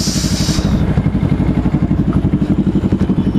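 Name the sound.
motorcycle engine, Yamaha NMAX in riding group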